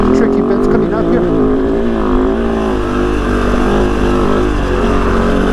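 A Kove FSE 450 R rally motorcycle engine drones steadily while riding over rough trail, a loud continuous buzzing note with slight pitch shifts as the throttle varies, with a voice talking over it.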